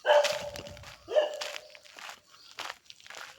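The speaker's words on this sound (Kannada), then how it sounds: "ನಾಯಿ ಬಗಳ್ತಾ ಇದೆ ನೋಡಿ" A dog barks sharply twice, fairly close, followed by a few quieter rustles and thumps like footsteps.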